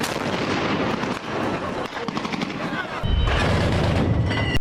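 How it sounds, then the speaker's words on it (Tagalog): A Bofors 40mm L60 naval gun fires in sharp, loud booming reports with rumbling decay, several shots in quick succession, while a voice talks over them. "Bofors 40mm L60 gun"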